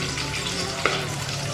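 Coconut pieces fry in a pan for cherupayar parippu payasam, giving a steady, close sizzle with one brief clink of a utensil partway through.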